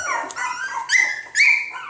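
Cockapoo puppies from a litter whimpering and yipping up close, with several rising, high-pitched whines in quick succession.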